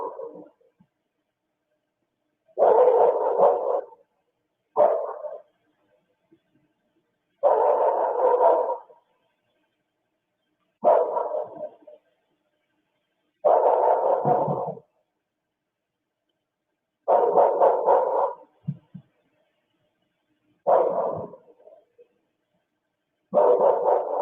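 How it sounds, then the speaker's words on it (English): A dog barks in repeated bursts, each a cluster of barks separated by silent gaps of a few seconds, fairly loud and steady. "He starts barking at some point, and he don't stop barking at all."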